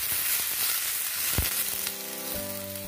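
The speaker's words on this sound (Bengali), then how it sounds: "সবজিগুলোকে ভালো করে ভেজে নিয়েছি।" Vegetables frying in a pan for a spinach chorchori, a close, steady sizzle with a few sharp stirring knocks and a brief tonal ring near the end.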